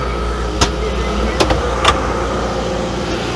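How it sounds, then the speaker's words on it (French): A vineyard tractor engine runs a little fast due to a throttle cable problem, a steady low rumble throughout with a few sharp clicks and knocks on top. "Donc j'ai le tracteur qui tourne"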